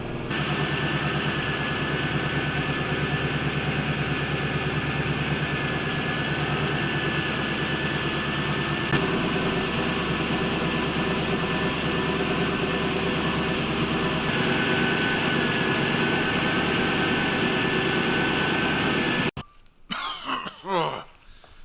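A TVR Chimaera with a turbo engine idles at its first start, a loud, steady, rough mechanical drone that runs unbroken for about nineteen seconds before cutting away to quieter, broken sounds.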